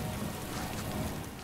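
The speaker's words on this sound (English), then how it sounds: "I like now that it's raining as well." Steady rain falls throughout a 1920s horror scene in the Call of Cthulhu video game, a dense, even hiss of drops spattering on surfaces that stays constant and fairly close, with no voices over it.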